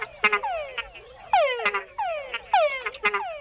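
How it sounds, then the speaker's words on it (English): Male frogs in the wild in Panama give mating calls with an added chuck note. Each call is a repeated, descending whine followed by chucks, loud and close, and several calls come in quick succession. "Male frogs make the added chuck sound to attract females."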